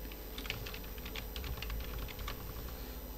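Rapid, uneven keystrokes on a computer keyboard as a name is typed into a design, close and fairly quiet, with no talking.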